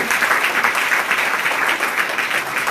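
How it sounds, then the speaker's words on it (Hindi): A church congregation claps loudly together, a dense continuous roar of hands that stays strong and even throughout. "जोर जोर से ताली बजाने के लिए"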